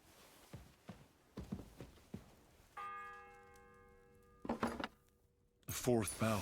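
A single church bell strikes with a sustained ringing tone in the video game Kingdom Come: Deliverance II, amid footsteps before it and a voice talking after it.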